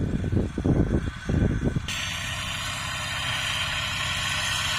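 A turbocharged walk-behind tractor planting corn runs with a steady, loud engine drone and vibration throughout, with uneven chugging pulses early on before it settles into an even, continuous hum.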